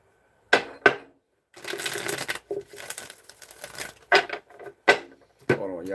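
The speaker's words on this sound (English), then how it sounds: "Let's give it one more shuffle." Cards are shuffled close by in a couple of crisp, rustling riffles, framed by a few sharp taps and a brief voice.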